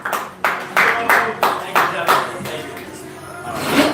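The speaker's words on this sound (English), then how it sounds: "Everybody, give a big round of applause for Joshua Paul." An audience at a live comedy show claps for a comedian coming to the stage. Loud, distinct bursts of hand claps land in a loose rhythm and then thin into scattered applause.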